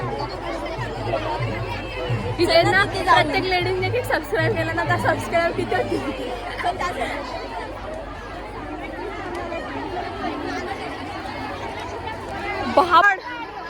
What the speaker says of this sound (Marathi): आतमध्ये पण तेवढीच गर्दी आहे जेवढी बाहेर गर्दी होती